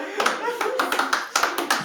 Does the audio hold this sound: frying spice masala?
no